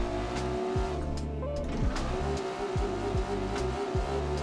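A drift car engine in the racing game Assetto Corsa revs hard near the rev limiter, with repeated rising and falling sweeps as gears shift, plus brief tire squeal, loud and close with no talk.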